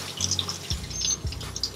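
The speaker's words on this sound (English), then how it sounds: "when I spray her with the water, she actually likes the way it feels on her back" A tap sprays water at a low setting while a cat is bathed in a sink or tub, a close, steady hiss of running water with a few low thumps and splashes.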